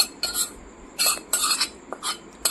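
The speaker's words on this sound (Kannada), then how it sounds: "ಕಡಲೆ ಚಟ್ನಿ ಈಗ ತಿರ್ಗಿಸ್ಬೇಕು" Gram flour chutney with tempering stirred in a bowl: a few brisk scraping bursts of a metal spoon against the dish, close and clear, separated by short pauses, with no talking.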